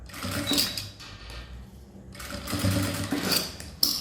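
An electric sewing machine stitching a zippered unisex toiletry bag runs in two loud bursts of fast, even needle chatter, separated by a brief pause, with no voices.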